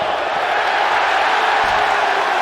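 A basketball arena crowd at a college game between the Kansas Jayhawks and the Iowa State Cyclones roars in a loud, continuous wash of cheering with no break.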